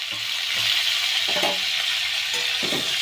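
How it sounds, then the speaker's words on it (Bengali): Cauliflower and potato fry in a pan with a steady, close sizzle. Light stirring scrapes and clinks break through the sizzle now and then. "এখন আমি একটু ভালো করে এটা ভাজবো।"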